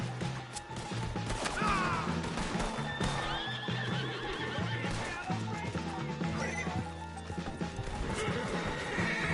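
Horses whinny and neigh amid clattering hooves and crashing noises in the video game Red Dead Redemption 2, a busy, loud scene with occasional voices underneath.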